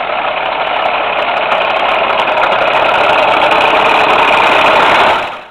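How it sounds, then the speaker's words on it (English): A Caterpillar CAT 1693 diesel engine runs with a loud, steady, dense metallic rattle that holds constant for several seconds, then cuts off abruptly at the end. "This engine didn't purr or growl, it rattled. Sharp, metallic, and unmistakable"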